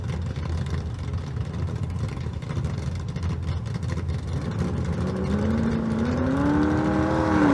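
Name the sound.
drag racing car making a run at Las Vegas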